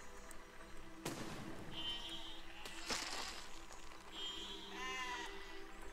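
Sheep bleat faintly in the siege-building game Besiege, with a few short wavering calls set against a noisy background and sharp crashing bangs.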